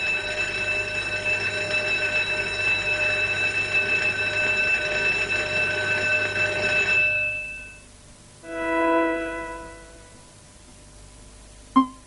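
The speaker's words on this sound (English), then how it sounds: "Really important bells rely on a make and break circuit." An electric bell driven by a make-and-break circuit, with an electromagnet and springy striker, rings continuously and loudly for about seven seconds, then stops; a short second burst of ringing follows, ending with a sharp click.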